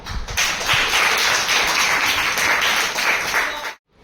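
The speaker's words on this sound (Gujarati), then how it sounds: "તાળી પાડો." Students in a classroom applaud together, a loud, steady burst of many hands clapping for a few seconds before stopping abruptly.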